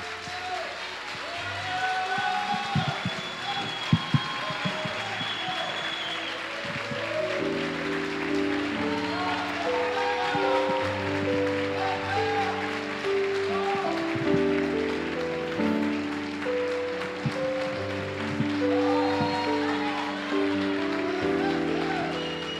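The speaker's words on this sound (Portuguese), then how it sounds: "Aplauda ao Senhor, porque Ele merece, Ele é digno." A church congregation applauds at length, a steady dense patter of clapping carried over sustained music or organ-like tones, with occasional sharper claps standing out.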